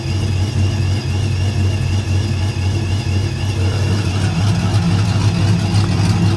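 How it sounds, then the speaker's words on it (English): A Ram pickup truck idles with a SPELAB electric exhaust cutout open, giving a steady, loud, close low rumble that holds without a break and firms up slightly toward the end. "Now the exhaust cutout is open,"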